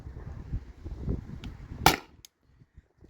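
A single sharp crack from a CO2 air pistol rings out close by after some low rumbling handling noise, followed by a faint click and then near silence.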